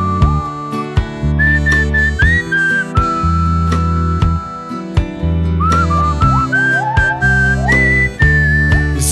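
A bright whistled melody carries a bouncy tune over a steady rhythmic backing, the notes rising and falling in short, cheerful phrases.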